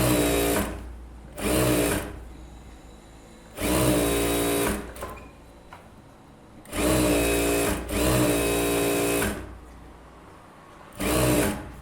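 Sewing machine runs in bursts while stitching a blouse seam: a whirring, rapid mechanical chatter in five or six runs of varying length, separated by short quiet pauses, close up.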